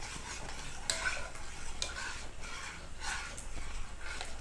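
A spoon stirs a mixture of old plug-in wax and fabric softener in a pot until it dissolves, giving faint scraping and clinking strokes in a quiet room.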